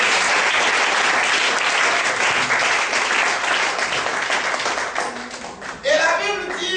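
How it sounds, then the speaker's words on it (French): A church congregation at a Sunday service applauds to acclaim the Lord, with dense sustained clapping from a large crowd filling the room and a voice rising near the end. "Est-ce qu'on peut acclamer le Seigneur?"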